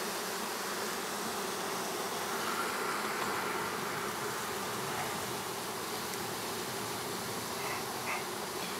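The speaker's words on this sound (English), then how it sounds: "are Italian bees. They're very calm and docile." Italian honey bees buzz densely at a hive being robbed, a continuous close swarm drone holding steady throughout with no voices.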